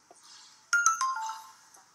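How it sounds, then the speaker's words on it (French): Short melodic ringtone burst from a mobile phone announcing incoming messages, a bright two- or three-note chime rising sharply and fading within about a second, alone in a quiet room. "son téléphone va se mettre aussitôt à vibrer"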